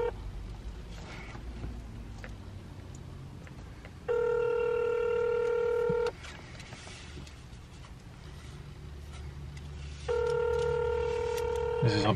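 A phone call rings out over a speaker: two long electronic ringback tones sound several seconds apart above a low background rumble, with no talk.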